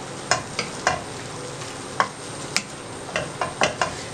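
Cooked ground meat with herbs de Provence being stirred in a pan: sharp scraping and clacking strokes at irregular intervals over a faint frying hiss, close and fairly quiet.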